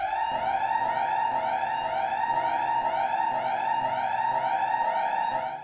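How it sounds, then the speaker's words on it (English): An alarm blares continuously, a loud, steady electronic wail that rises and repeats in quick sweeping cycles for several seconds, with no voices over it. "I have alarm for 2:47."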